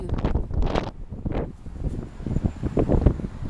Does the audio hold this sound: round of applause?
no